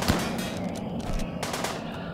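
Gunfire in the video game Rimworld Anomaly, a rapid burst of sharp shots fired close together, loud and near, with no talking over it.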